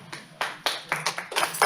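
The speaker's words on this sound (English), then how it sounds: "thanks for clapping." Audience clapping at a city council meeting, a sparse scattering of individual claps from a few people, close and uneven, growing slightly busier toward the end.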